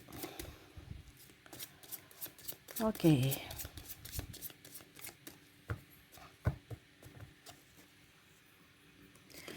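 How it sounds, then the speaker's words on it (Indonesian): Tarot cards are shuffled by hand, with steady papery riffles and soft taps running throughout, plus a brief louder flurry of card handling partway through, while a person speaks quietly. "saya kocok kartunya"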